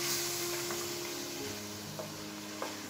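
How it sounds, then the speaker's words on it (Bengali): Spice paste for a shrimp and pumpkin curry frying in a pan after a little water is added, giving a steady, soft sizzle and hiss with a few faint stirring scrapes, no voices. "এখন এখানে সামান্য একটু পানি অ্যাড করছি যাতে মশলাগুলো পুড়ে না যায়"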